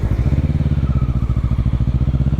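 Kawasaki ER6N motorcycle fitted with an Akrapovic exhaust revs with a deep, bassy, pulsing engine note, loud and close, with rapid steady firing throbs throughout.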